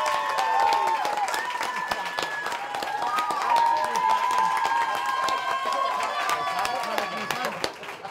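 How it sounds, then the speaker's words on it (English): Live audience clapping for a judge being introduced at a season grand finale show: sparse, steady claps run throughout, mixed under voices and tonal sound. "All right, don't clap too much."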